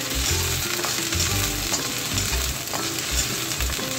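Garlic and onion sauté in a hot pan, a steady loud sizzle broken by repeated scraping stirs of a spatula, cooking toward bitter gourd with oyster sauce.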